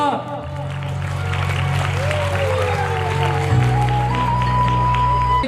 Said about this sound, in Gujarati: જોરદાર તાળીઓ હો જાય મિત્રો